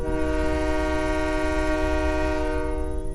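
A train whistle sounds at a railway station as a loud, sustained multi-tone blast that holds steadily for the whole stretch over a low rumble.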